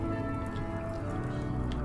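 Rain falling in RimWorld, a steady, dense patter that continues evenly throughout at a constant, moderate level with no voices over it.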